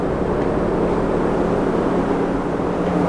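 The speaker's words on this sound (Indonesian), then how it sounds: "Ini agak berisik ya. Suara mesin, jadi berisik banget." Boat engine running at sea on a volunteer relief trip near Palu and Donggala, a loud, steady low drone that fills the whole stretch without a break.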